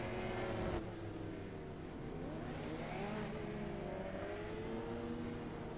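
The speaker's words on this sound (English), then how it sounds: "cars pulling out on track now" Formula race car engines drone and rev as the field rolls out onto the track in iRacing, layered whining tones rising and falling steadily at moderate distance with no talk.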